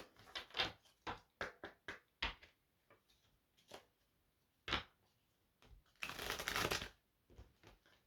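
Tarot cards being shuffled by hand, a series of quick papery riffles and flicks in close bursts, ending in one longer loud shuffle, with no talking.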